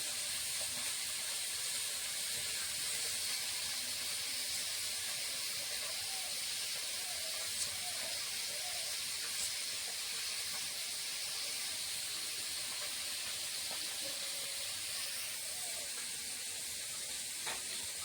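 Small fish fry in a pan with a steady, faint sizzle and hiss that holds evenly throughout, with no talking.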